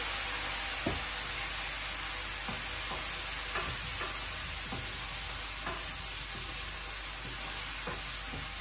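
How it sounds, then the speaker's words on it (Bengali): Spices sizzle in hot oil in a pan alongside fried potatoes, under a steady hiss. Soft scrapes and taps from stirring recur every second or so, with no talk. "মশলাটা একটু কষাই নেই।"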